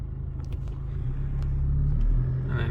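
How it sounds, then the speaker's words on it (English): Car driving past at close range, a loud low engine rumble that swells steadily to a peak near the end, with light scuffing sounds on top and no talking. "Just a random car."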